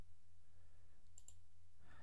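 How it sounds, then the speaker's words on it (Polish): A faint mouse click on a login button, two quick clicks near the middle, then a soft trailing sound, over a steady low hum. "klikamy zaloguj"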